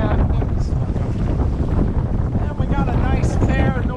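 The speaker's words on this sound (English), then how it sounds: "nice fair northerly wind here, north-northwesterly." Steady northerly wind rushes and buffets across the microphone aboard a sailboat under way off the Florida Keys, with water wash beneath and a voice talking over it throughout.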